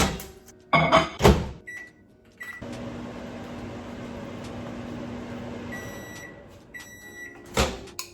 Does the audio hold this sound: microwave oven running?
yes